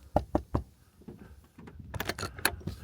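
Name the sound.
knocking on a Jeep Gladiator camper door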